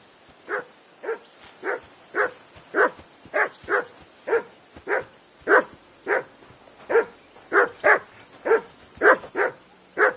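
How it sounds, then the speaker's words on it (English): A dog barks steadily in the medieval role-playing game Kingdom Come: Deliverance II, giving sharp, evenly spaced barks about twice a second, close and loud against a quiet background. "Whistle at that mutt of yours to stop barking!"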